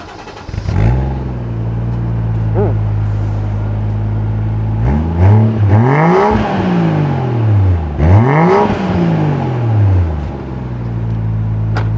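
A Toyota Chaser Tourer V JZX100 with its 1JZ engine idles, then revs hard twice, each rev climbing and falling back to a steady idle, heard close and loud with no talk.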